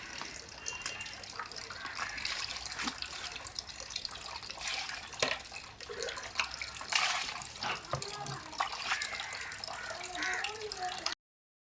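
Tap water runs and splashes softly while cutla fish is washed in a sink, a faint continuous trickle with small drips and clatters, close by, with a voice speaking briefly in between.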